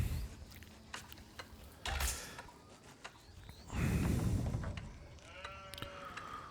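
Sheep bleating in Age of Empires IV, a few short bleats among clicks and mechanical game sounds, with one louder burst in the middle.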